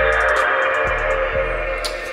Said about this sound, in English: That is the sound of a working PS2